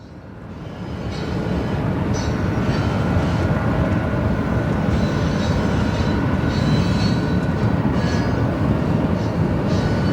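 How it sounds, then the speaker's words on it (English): A train rolls past near the runways at Chicago O'Hare International Airport, a loud, steady broadband rumble of wheels and cars that swells in over the first second and holds throughout, with faint high squeals on top. "here's a little bit of the train action going on here"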